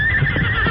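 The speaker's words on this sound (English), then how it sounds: "Silver could sense there was danger ahead and whinnied his defiance" A horse named Silver whinnies in a short, loud, close burst of neighing, sounding in the middle of a dramatized western adventure as danger lies ahead.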